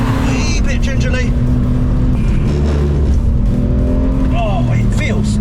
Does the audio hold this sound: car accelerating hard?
yes